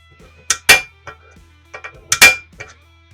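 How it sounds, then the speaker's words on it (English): Two pairs of sharp metallic taps ring out close by as a center punch dimples a metal fender on a 1989 Harley-Davidson Sportster chopper, each pair a light tap and a harder strike, with a quiet pause between. "take a center punch and make a nice little dimple for us to drill into"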